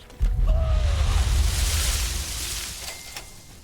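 In the Fallout: Tale of Two Wastelands game, something landing in water sets off an explosion sound effect: an abrupt heavy boom followed by a sustained low rumble that tapers off gradually, with faint tonal whines above and no voices.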